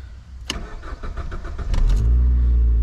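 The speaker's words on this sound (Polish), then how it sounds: "Luz jest, odpalmy auto." A car engine cranks with a series of quick starter pulses, then catches and roars into a loud, steady idle close by.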